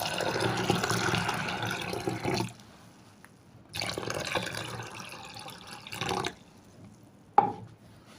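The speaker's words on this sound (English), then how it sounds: "After rinsing it, I'll then add water to it." Water pours into a container of rinsed soybeans in broadband bursts, two long fills separated by a pause, then a shorter pour and a faint clink, fairly close with no voices.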